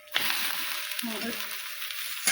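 Masala ragi roti (ragi thalipattu) fries in oil on a pan, giving a steady close sizzling hiss with a brief sharp crackle at the start and another at the end.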